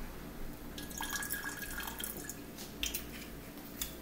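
Red wine vinegar pours in a faint, close trickle and a few drips into hot wing sauce in a quiet kitchen, soft and brief, with no talk.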